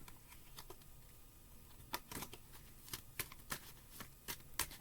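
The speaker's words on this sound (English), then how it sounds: "Let's pull some more cards." Tarot cards are shuffled and pulled, giving a close series of quick papery riffles and slaps that grow sharper toward the end, with no talk over them.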